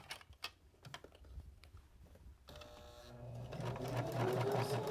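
A sewing machine stitches fabric slowly around a curve for a small apron-shaped recipe holder, starting with a few soft clicks and taps, then running into a steady, building mechanical whir of close needle strokes.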